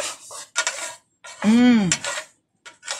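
Meat is stirred with garlic and onion in a metal pot, giving several short scraping and clinking bursts of utensil against cookware, with one ringing metallic tone in the middle; no talk is heard.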